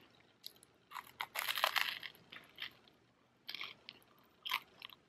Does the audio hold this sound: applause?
no